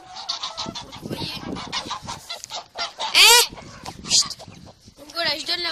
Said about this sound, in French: regardez les oies qui attaquent ma poule